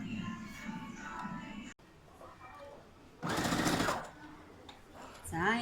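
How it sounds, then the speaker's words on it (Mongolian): A sewing machine stitching quilt fabric runs in one short, loud burst of rapid whirring between stretches of a person talking, with a voice returning at the end. "Яг ингээл ийм гоё шулуухан ингэж оёх ёстой шүү бүгдээрээ."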